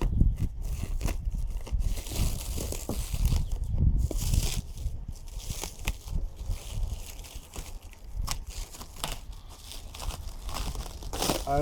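A brittle carbon fiber door panel for a second-generation Mitsubishi Eclipse is cut by hand, giving close, irregular crinkling, crunching and tearing sounds in short bursts.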